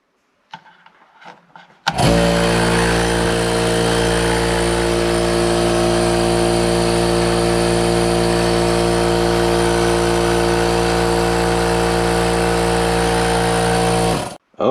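A Porter Cable air compressor with air leaks starts up after a few faint knocks and runs loud and steady, a dense mechanical drone with a strong tonal hum and hissy wash that holds unchanged for about twelve seconds before cutting off.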